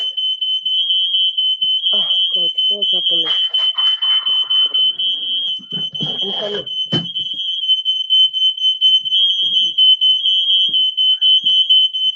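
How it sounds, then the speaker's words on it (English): A fire alarm sounds continuously as a steady piercing high tone throughout, loud and unbroken, while people speak over it in a distressed, hurried way. "sorry that the fire alarm is just"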